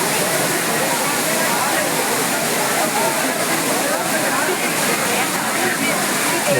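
The waterfall at Courtallam roars as a dense, continuous wash of falling water, loud and close, with no break or change in level throughout.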